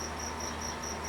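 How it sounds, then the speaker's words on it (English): A cricket in a workshop chirps in steady, evenly spaced high trills, clear over a quiet hiss, heard alone with no talk. "It's a cricket, and I can't find it."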